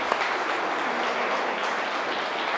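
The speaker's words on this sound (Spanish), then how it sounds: "Le damos un aplauso a ellos, que están también por primera vez." An audience applauding at a special church gathering, dense steady clapping that holds at an even level throughout, with no voices over it.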